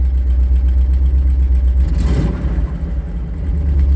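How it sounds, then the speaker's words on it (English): A 1982 Triumph TR8 engine runs with a deep, steady drone close by, then briefly rises in a short rev as the throttle is pressed before settling back to idle. "watch when I hit the gas a little bit"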